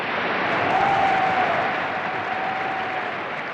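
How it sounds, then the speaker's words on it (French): A crowd applauding and cheering, a steady wash of clapping that holds at an even level, then fades slightly toward the end. "Les acclamations se sont tues"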